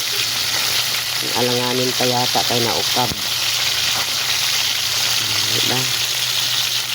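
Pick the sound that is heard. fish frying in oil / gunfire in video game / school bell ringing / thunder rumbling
fish frying in oil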